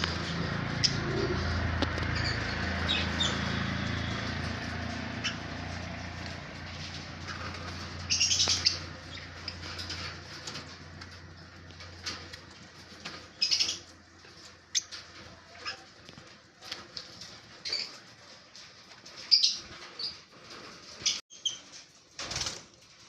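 Lovebirds chirp and squeak in scattered bursts over a low hum, with sharper tweets growing more frequent toward the end.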